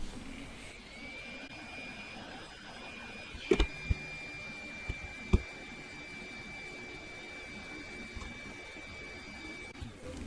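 A hot air tool heats the screen cable on a Xiaomi Redmi Note 10 during screen replacement, producing a steady airy blowing hiss with a faint high whine, broken by a few sharp clicks and knocks.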